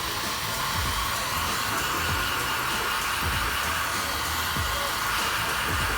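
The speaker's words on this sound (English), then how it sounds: "Now I'm just gonna hit it with a little bit of higher heat," A heat gun blows a steady, loud rushing roar while post-heating vinyl wrap on a Mitsubishi 3000GT panel, continuous and close, with no talk.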